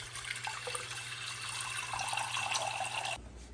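Reverse osmosis filtered water runs steadily from a tap in a continuous splashing stream for about three seconds, close and fairly loud, then it cuts off. There is no talking.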